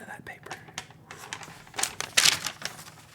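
Sheets of writing paper rustled and crinkled close up, with crisp irregular crackles and a louder crumpling burst near the end, alongside quiet talking.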